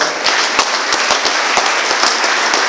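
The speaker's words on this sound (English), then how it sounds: "Let us give them a huge round of applause." An audience at a homoeopathic medical college graduation ceremony claps for the graduates, a moderately dense round of applause with distinct sharp individual claps standing out over the steady patter.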